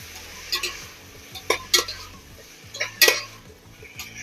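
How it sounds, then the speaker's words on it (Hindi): A utensil scrapes and clinks against a pan while chana dal and potatoes are mixed together, with a few sharp knocks spread over several seconds and a faint sizzle beneath, close and without speech. "ऐसे प्रॉपर तरीके से ऐसे मिक्स कर देना है"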